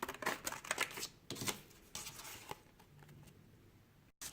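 Scissors snipping through paper to cut out circles for a pretend-play soda can craft, a close run of quick dry snips and rustles that thin out and fade after the first couple of seconds.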